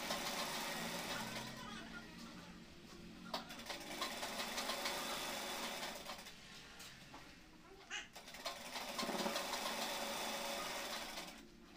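A sewing machine stitches cotton women's shorts in short bursts, a steady mechanical whir running for several seconds at a time with brief pauses, fairly faint, while someone talks over it.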